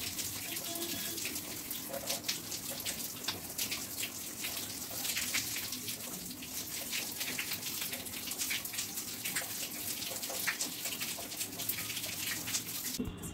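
Steady running tap water pours without a break during an at-home hair wash, a close, continuous hiss with no voices.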